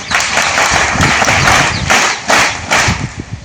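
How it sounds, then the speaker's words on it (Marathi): An audience at a village environmental-protection event in Mulane gives a short burst of loud, dense applause, with rough clapping swelling and dipping over a few seconds. "कृपया टाळ्या"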